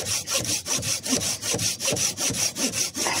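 A Silky Gomboy 210 folding saw cuts a small piece of wood in quick, even back-and-forth strokes, about a dozen in a few seconds. The rasping is close and clear, with no voices.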